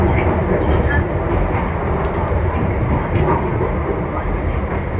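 Passenger train on a British railway line, a loud continuous rumble of wheels and carriage noise close by, with onboard announcements spoken over it.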